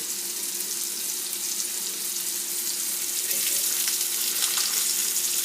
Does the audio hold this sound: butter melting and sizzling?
yes